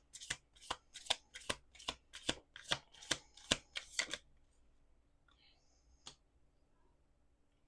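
A deck of playing cards is riffled again and again, a quick run of about ten crisp, close bursts in steady rhythm, then near silence with one faint click at the end.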